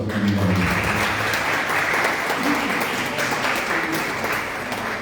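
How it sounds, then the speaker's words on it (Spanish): Sustained crowd applause at a poetry gathering honouring writers, offered in memory of a late colleague; steady, dense clapping from a seated audience that fills the whole stretch at an even level. "le pido un aplauso en recordación a Mila López"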